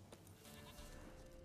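Goats bleat in The Witcher 3, a short wavering call that rises over a busy in-game ambient background, fairly close and continuous for a second and a half.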